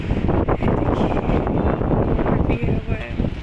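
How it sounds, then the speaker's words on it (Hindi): Strong, cold wind gusts loudly after a night of rain, a dense rushing roar buffeting the microphone, with someone talking over it. "देखिए कितनी तेज हवा चल रही है"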